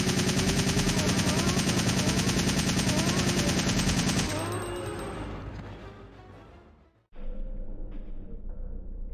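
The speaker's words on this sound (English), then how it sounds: "that machine gun's got some stopping power" Sustained rapid machine gun fire from the Resident Evil original trilogy, a loud dense rattle of shots for about four seconds that fades into a low rumble before a quieter ambient hum returns.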